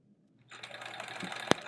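A sewing machine stitches a quilt block, starting after a brief quiet moment and then running in a steady rapid whir close by, with a sharp click near the end.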